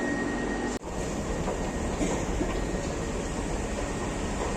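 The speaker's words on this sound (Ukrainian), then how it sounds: "Метро саме зупинилося і ось нам туди підніматися." A Rome metro train running and coming to a stop at a station, a steady loud rumble of wheels and rail noise with a brief dip near the start, continuous and close throughout.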